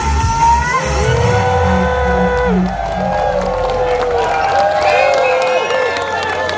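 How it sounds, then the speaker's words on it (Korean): Clapping and cheering from an outdoor concert crowd at a festival in Pohang, a steady loud wash of applause and shouts with amplified tones and music sustained underneath. "다 같이 박수와 함성!"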